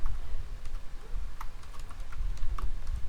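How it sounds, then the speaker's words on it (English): Quick, light keystrokes on a computer keyboard as a file path is typed, close and continuous with an uneven rhythm over a low background rumble. "So that is here I type the path"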